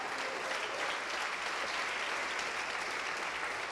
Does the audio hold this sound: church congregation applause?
yes